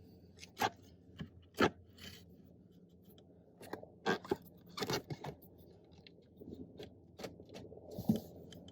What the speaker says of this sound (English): We'll also need to pull up the trim here.